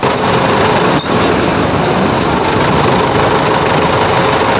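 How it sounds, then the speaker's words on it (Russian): A snow-clearing tractor works behind an apartment building in winter, its engine a loud, constant, rough drone that holds steady throughout with one brief dip, and no talk. "За 117-м домом работает трактор."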